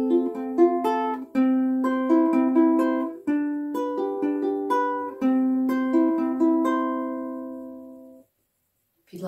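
A ukulele plays a fingerpicked interlude, with clear plucked notes in a steady pattern and a few brief pauses between phrases, close and alone.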